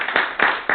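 Short bursts of hand clapping from a meeting audience, three distinct swells of claps close together, moderately loud and with no talk over them.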